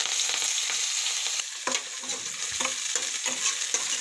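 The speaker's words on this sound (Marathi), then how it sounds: "हलके कांदे शिजू." Onions fry in hot oil with cumin, a bright continuous sizzle close up, punctuated by irregular stirring scrapes, no talking.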